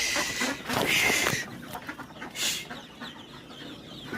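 Local chickens on a poultry farm cluck and squawk close by, several birds calling in overlapping bursts with a louder cackling stretch early on and scattered clucks after.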